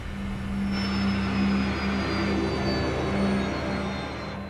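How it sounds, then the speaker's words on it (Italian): Jet airliner engines near an airport control tower at Marseille during a hijacking scene: a loud, steady turbine roar with a high whine and low hum, fading slightly at the end as the engines wind down. "L'aereo si ferma vicino alla torre di controllo."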